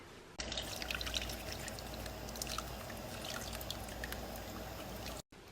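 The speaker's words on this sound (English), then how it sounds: "Here's another one of me literally doing the simplest task of pouring a one color soap into a mold" Liquid one-colour soap poured into a mold, a close continuous trickling stream with small splashes, faint and steady before stopping abruptly.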